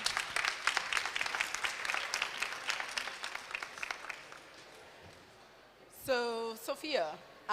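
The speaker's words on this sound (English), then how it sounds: "could we give AY a round of applause, the young man" Crowd applause fills the opening seconds, a dense clatter of clapping that fades out, followed by a brief tonal sound near the end.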